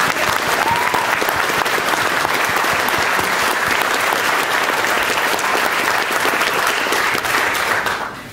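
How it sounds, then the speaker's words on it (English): A room of wedding guests applauding during a son-of-the-bride speech, with dense, even clapping at a steady level for about eight seconds that fades slightly at the end. "A round of applause, please, for"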